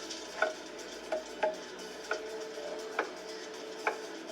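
A knife roughly chopping organic courgette on a board outdoors beside a cliff, a few light, separate chops landing at an irregular, unhurried pace, quiet and close.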